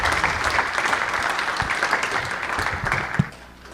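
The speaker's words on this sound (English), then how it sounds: "Clap it up, make some noise for them one more time." Audience applause at a symposium session, steady dense clapping filling the room for about three seconds before dying away, with a single louder clap near the end.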